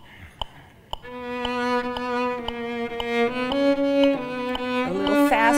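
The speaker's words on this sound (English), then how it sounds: "With the metronome going on, I'm going to go behind it at first." A cello plays sustained, rich bowed notes that step through a slow phrase, while a metronome's sharp clicks tick steadily underneath at an even tempo.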